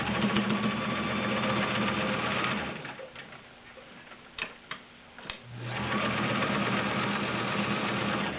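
A Kenmore 1753 heavy-duty 1.2 amp sewing machine stitches through three layers of suede leather, its motor humming steadily and loudly, then pausing briefly with a few clicks before resuming the continuous run.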